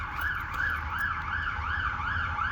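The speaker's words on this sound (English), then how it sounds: "Sounds like we've got an ambulance coming." Ambulance siren with a steady wailing rise and fall, repeating about once every half second, loud and continuous over low traffic rumble, no talking.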